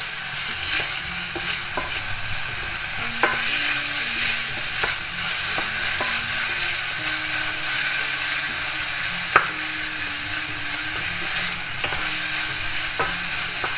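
Minced beef frying in a pan and stirred with a utensil, a steady close sizzle punctuated by scraping strokes and occasional clacks against the pan.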